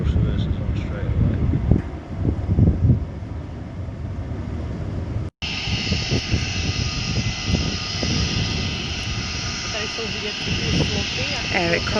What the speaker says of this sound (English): Thrust reversers on straight away.